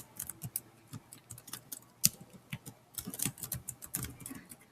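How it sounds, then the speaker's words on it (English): Quiet, close clicking of fingers on a computer keyboard, with irregular bursts of keystrokes and short pauses between words. "So here I'm going to type in assessment."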